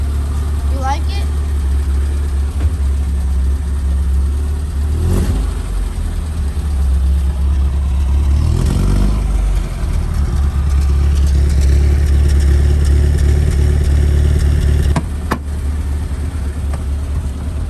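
A car engine idles and revs up, a steady low rumble swelling and dropping, with a couple of sharp bumps and some talk alongside.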